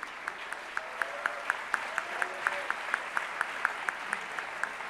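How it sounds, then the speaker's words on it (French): Audience members at the Pierres d'Or 2019 real estate awards ceremony clap in a steady rhythmic beat, sharp regular claps about four per second, heard moderately in a large room. "applaudissez"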